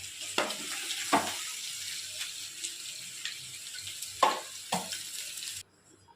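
Ivy gourd (tondli) sizzling as it fries in a pan, a steady crackling hiss with a few sharper stirring clicks, fairly quiet and close, ending abruptly.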